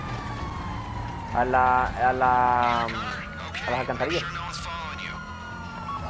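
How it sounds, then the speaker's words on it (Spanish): In GTA 5 Online, a police patrol car siren wails in a couple of loud bursts that rise and fall, heard under someone talking during gameplay. "Pero quite la sirena, ¿no? Porque tenemos que llegar infiltrados con una patrulla."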